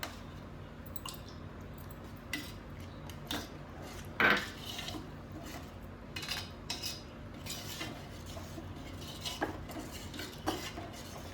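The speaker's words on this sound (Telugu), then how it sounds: "వేసుకొని శుభ్రంగా కలుపుకొని" A spoon stirs soaked tamarind pulp into a pot of ginger curry, steady wet squishing and scraping with one sharper metallic clink partway through, no talk.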